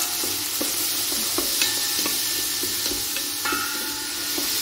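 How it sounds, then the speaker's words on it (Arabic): Onion stirred and frying in butter in a pot, a steady broadband sizzle with repeated soft scraping stirs at an even rhythm, close and clear with no talk. "غادي نضيف هنايا شويه ديال البصله نبدا نخلط مزيان"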